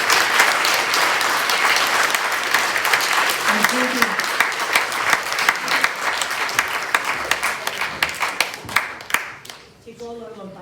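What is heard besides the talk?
rally crowd applause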